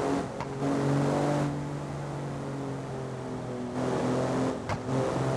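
A turbocharged car engine in the BeamNG.drive driving game, on the Tail of the Dragon road, hums and builds boost in a rising drone, swelling louder in two surges over a steady background.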